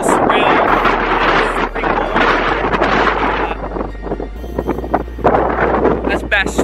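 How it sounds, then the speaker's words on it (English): Strong wind on the Archers Knob summit overlooking Bass Strait buffets the microphone in loud, rumbling gusts, with low booming surges rising and falling throughout. "it is really windy"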